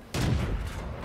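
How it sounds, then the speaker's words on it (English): Tank destroyer cannon firing in World of Tanks, a single sharp boom that swells up suddenly and then settles into a sustained rumbling tail. "I go up to take a shot"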